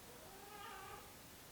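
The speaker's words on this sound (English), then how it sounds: "there's a bored kitten" A kitten gives a single soft, drawn-out meow at close range, faint against steady background hiss.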